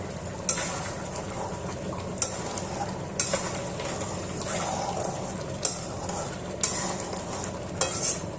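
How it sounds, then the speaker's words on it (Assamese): Palak butter paneer curry bubbles steadily in an uncovered pan over high flame with a constant soft boil. A spoon strikes and scrapes the pan in regular sharp clinks about once a second. "ঢাকনিখন গুচাই মাজে মাজে লৰাই থাকিম"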